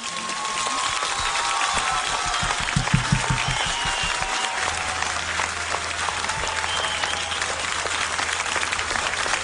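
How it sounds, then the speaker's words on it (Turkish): A large crowd applauds loudly and steadily for mothers, with dense, continuous clapping and a few rhythmic claps standing out near the middle, heard throughout with no clear speech. "Öyle bir alkış gönderin ki anneleriniz duysun"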